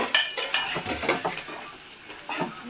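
A home kitchen pot of cooking food being stirred: light metallic scrapes and clinks of a spoon against the pot recur every half second or so over a soft sizzle, close and moderately quiet.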